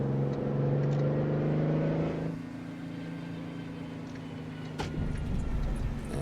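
Heavy truck engine droning in a trucking game, a steady low rumble that drops to a softer idle-like hum partway through, with a brief rise near the end.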